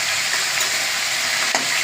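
Hilsa fish frying in a pan, a loud steady hiss and crackle of hot oil that continues as the fish is turned over, with no voices.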